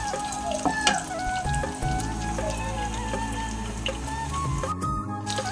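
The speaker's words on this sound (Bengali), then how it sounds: "দেখো এগুলো ভালো করে একটু ভেজে নিই" Eggs frying in hot oil for a Bengali egg curry give a steady, close sizzle that runs the whole time, with a few small ticks and stirring clinks, and no voices.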